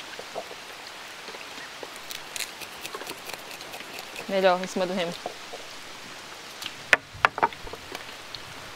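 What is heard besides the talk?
rain falling on the Amazon river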